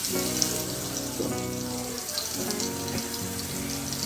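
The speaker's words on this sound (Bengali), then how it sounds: "এরপরে আমি পেঁয়াজগুলো একটু ভেজে তার মধ্যে শীতল শুটকিগুলো দিয়ে দিচ্ছি" Dried fish (shutki) frying with onions in hot oil, a loud, steady close sizzle that crackles and hisses continuously throughout with no pauses or talk.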